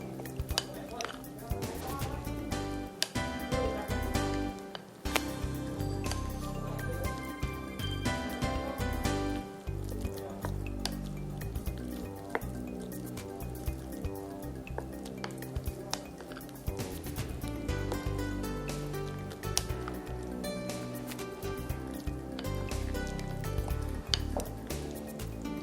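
Tempeh mixture with garlic and soy sauce is stirred in a pan, giving continuous sizzling frying under repeated clinks and scrapes of a utensil against the cookware.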